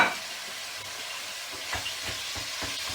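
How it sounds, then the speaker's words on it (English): Minced meat sizzles steadily in a hot pan, a constant crackling hiss with soft scraping as it is stirred. "Get that all sizzling up nicely"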